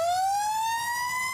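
A Los Angeles County fire engine siren wails in a single rising sweep, loud and close, as the truck rushes to a brush fire in Sunland's Tujunga area amid Santa Ana winds.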